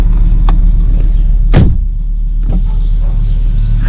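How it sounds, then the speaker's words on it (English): Volvo V70/XC70 power windows close with an electric motor hum over an idling engine, marked by a few clicks and a firm thump as a window seals shut. "I'll shut my windows, I'm really cold in here."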